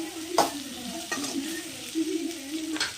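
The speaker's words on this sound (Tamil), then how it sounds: "ரெண்டு பச்சை மிளகா கீறி வச்சிருக்கேன், அதையும் போட்டு கொஞ்சம் வதக்கிக்கலாம்." Green chillies and onion sizzle and fry in an iron kadai, close up, with a spoon scraping and stirring in several sharp strokes over the steady hiss.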